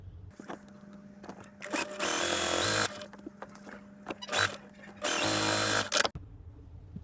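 A sewing machine runs a quarter-inch seam while a quilt block is pieced. Loud, close whirring bursts start and stop several times, with quieter handling noises in the gaps and no talking.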